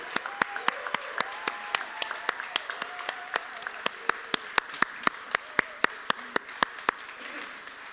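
Applause and cheering from an audience at a Beatleweek event, welcoming drummer Geoff Britton to the stage: a steady mass of clapping with sharp individual claps standing out, some voices in the crowd.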